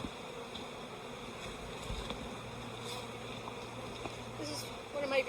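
Honeybees buzz faintly around a hive frame during a subarctic colony inspection, a low, thin insect drone under soft handling noises, with a brief louder rustle near the end.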